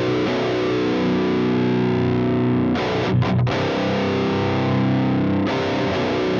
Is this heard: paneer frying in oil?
no